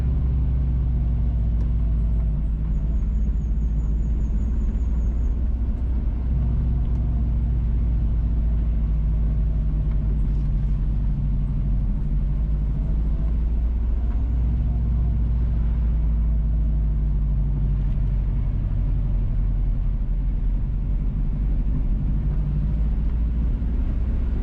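A car drives through Lower Derry in St Mary, Jamaica, its engine and road rumble steady and close for the whole stretch, with a faint high whine briefly audible early on.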